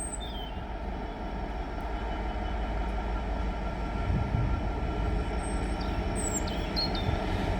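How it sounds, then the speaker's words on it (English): A diesel freight train, class 66 locomotive hauling gypsum wagons, arriving at Tonbridge station; a low steady rumble and drone that builds gradually, with faint high squeals and clanks from the wheels and track, and no talking. "And this will be our final train of the day."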